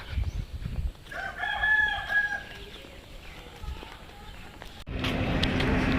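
A rooster crows loudly, its call rising and holding in clear bands, followed by quieter outdoor noise and a burst of rustling.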